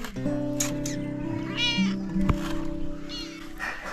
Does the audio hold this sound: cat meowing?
yes